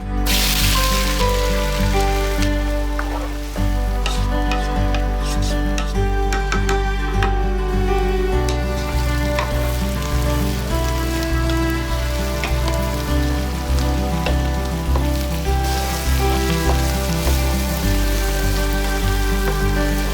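Onions frying in hot oil for chicken korma give off a constant, loud, rain-like sizzle that holds steady throughout, close and uninterrupted, with no voices.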